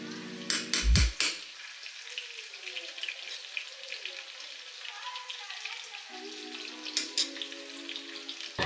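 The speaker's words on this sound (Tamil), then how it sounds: "இந்த மாதிரி டாங்ஸ் யூஸ் பண்ணி சிக்கன் 65 எல்லாம் நீங்கள் வந்து பொரிச்சு எடுத்துடலாம்" Chicken 65 deep-frying in oil gives a steady close sizzle with soft crackles, broken by a brief clatter of tongs and a few louder bursts.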